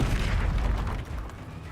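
A Confringo spell explosion in the Hogwarts Legacy video game: a deep, rumbling boom that fills the low end and slowly fades over under two seconds.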